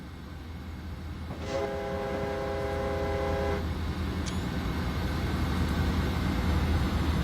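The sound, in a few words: BNSF ES44DC train passing at speed, Train Simulator 2016 video game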